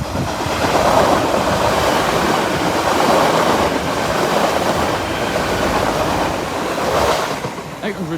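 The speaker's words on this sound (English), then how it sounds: "Here's 1 Bravo 84 running from London King's Cross to Lincoln Central." A passenger train running from London King's Cross to Lincoln Central rushes past a level crossing, a loud, steady broadband roar of wheels and rails that swells and holds for several seconds close by, with no talk over it.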